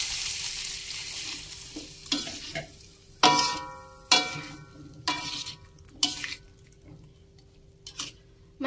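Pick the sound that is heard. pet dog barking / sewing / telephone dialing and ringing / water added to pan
water added to pan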